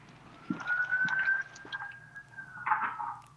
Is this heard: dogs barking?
no